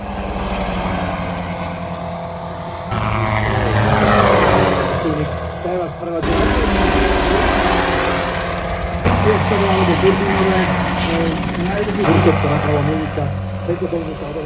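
A steady helicopter engine drone with a low rotor thrum runs throughout, loud and close, at an air show in Jasná in the Low Tatras. It is broken by abrupt cuts, with voices talking over it.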